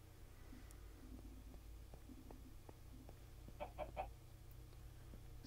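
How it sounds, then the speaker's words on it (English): A Minecraft chicken gives a few soft clucks underground in a mine, faint over a low steady ambient hum, with a short cluster of louder clucks near the end. "I brought a chicken down here for company."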